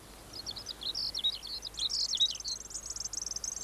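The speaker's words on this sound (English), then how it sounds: "Yes, listen to that bird." A bird sings a rapid series of high chirping phrases outdoors near an oak tree, fairly close and clear, with a faint insect-like background hum and no talking.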